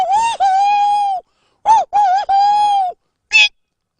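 A person imitates an owl hooting in a few drawn-out, quavering voiced calls with gaps between them, ending on a short higher squeak, close and loud.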